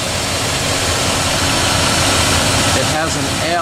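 The engine of a 2003 Dodge Ram 1500 idles with the air conditioning on, a loud, steady, close-up drone that holds evenly throughout.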